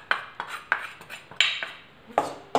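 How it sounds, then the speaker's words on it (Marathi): A spoon scrapes and clinks against a kadhai while gram flour is stirred and roasted over low heat, giving sharp, regular metallic taps roughly every half second, close and clear with no talking. "सारखं हलवत राहायचं आहे, त्यामुळे ते करपत नाही."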